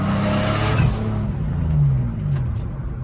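A tuned, boosted Nissan 370Z engine, recently repaired after a blown turbo, revs loudly and steadily up close, its low droning note rising and falling across a few seconds with no talking.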